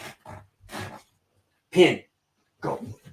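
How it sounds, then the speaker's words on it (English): A pet dog named Cody gives short barks and whines indoors, a few sharp bursts separated by pauses, mixed with a voice scolding it. "Sorry, guys, that's the dog."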